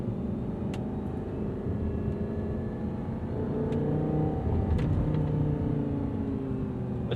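A 2011 Audi R8 V10 Spyder with a gated manual gearbox idles and rumbles steadily, its deep engine drone swelling slightly partway through, heard close with no voices.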